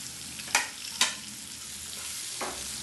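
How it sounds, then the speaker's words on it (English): Onions frying in a pan with green chilies for kande pohe, a soft steady sizzle broken by a few sharp stirring scrapes near the start and another toward the end. "Now these onions need to be cooked till they are translucent."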